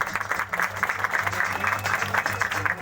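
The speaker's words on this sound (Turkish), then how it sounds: "sizlerden güçlü bir alkış rica ediyoruz" Outdoor crowd applause for riders at a cirit (mounted javelin) game in Pasinler, a steady patter of clapping mixed with a droning low hum and someone speaking over it.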